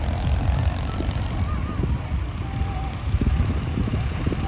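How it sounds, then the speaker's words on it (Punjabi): A tractor engine drones as it drives past on a village road, a loud, continuous low rumble that fills the whole stretch with little change, with faint voices in the background. "ਟਰੈਕਟਰ ਜਾਂਦਾ ਦੇਖੋ"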